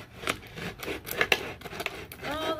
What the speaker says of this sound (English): this is a carrot juice bottle that we washed out. And I got my shank. I am going to just cut it around.